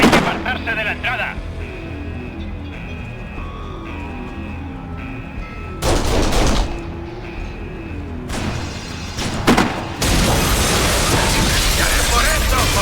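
Gunfire in the video game Kane & Lynch: Dead Men, bursts of loud shots and heavy blasts breaking up a rumbling backdrop, with a sustained barrage near the end and voices shouting in between.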